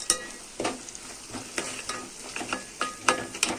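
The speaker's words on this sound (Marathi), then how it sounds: "मस्त परतून घेऊया." Ground spice masala of red chili, cumin and coriander powder sizzles in a pan for a mutton curry, with soft frying hiss under a series of sharp spatula scrapes and clinks roughly every half second.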